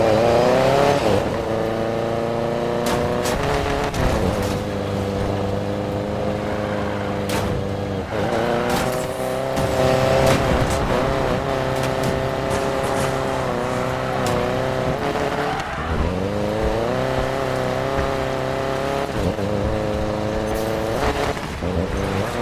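Race car engines in the video game Need for Speed Payback, a loud, sustained roar that rises and falls through repeated gear shifts, with occasional tire squeal and no talking.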